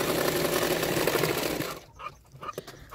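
Sewing machine stitching a puff sleeve fitting seam, running in a steady continuous whir that stops after about two seconds, leaving faint handling noises.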